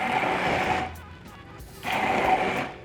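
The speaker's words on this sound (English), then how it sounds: "I can just take my immersion blender and blend it." An immersion blender purees tomato sauce in a cup, a loud steady whir that runs for nearly a second, drops away briefly, then starts again for a second burst.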